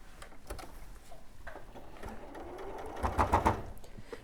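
Close sewing machine whirs through short bursts of rapid stitching as toy arms are sewn into the side body seam of a rabbit toy, ending in a louder, faster run.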